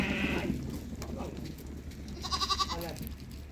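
Sheep in a livestock pen give wavering bleats, one early and another nested calls later, heard alongside people talking nearby in a farm setting.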